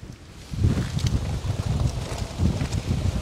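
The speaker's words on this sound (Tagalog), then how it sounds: "Malakas ang hangin" Strong wind buffets the microphone in low, rumbling gusts at Flinders Pier, steady throughout with heavier surges, near open water.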